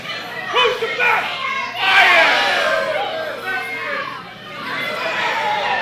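A live crowd at an OTW wrestling match between Chris Bohren and Brian Johnson shouts and chants in rising and falling waves, with many voices blending into a loud, steady roar.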